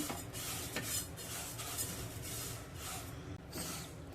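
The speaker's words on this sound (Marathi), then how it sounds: "मेथी आपण पातेलीत घालून घेऊया गॅस मंद आचेवर ठेवायचं आहे आणि मंद आचेवर मेथी भाजून घ्यायची आहे" Fenugreek seeds dry-roasting in a pot on a low gas flame: soft, faint rattling and scraping with light stirring clinks, steady and close, with no talk.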